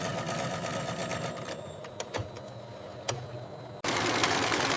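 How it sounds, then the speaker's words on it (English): Heavy-duty industrial sewing machines stitching denim jeans inseams in a factory, a fast continuous mechanical chatter with a few sharp clicks, then a louder machine cutting in near the end. "Heavy-duty sewing machines create strong, durable inseams on the jeans."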